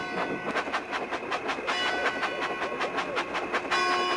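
A locomotive from a Thomas & Friends video game runs along with a steady, rhythmic clickety-clack and a tonal hum, loud and continuous throughout, with no talk.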